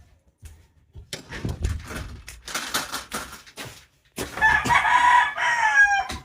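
Scratchy clucking and rustling come first, then a loud rooster crows nearby with a drawn-out, wavering call near the end.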